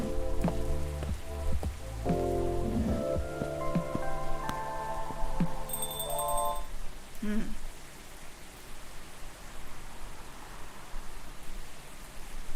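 Steady rain falls in the café setting of the video game Coffee Talk, a continuous hiss running the whole stretch beneath soft game music and chimes, with the music fading out partway so the rain carries on alone.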